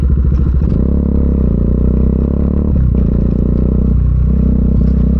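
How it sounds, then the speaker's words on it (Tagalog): A modest, inexpensive motorcycle rides a rough seaside road, its engine droning loud and close while the bike clatters and rattles over bumps. "Magmotor sa tabing dagat. Yeah, walang problema kahit rough road yan."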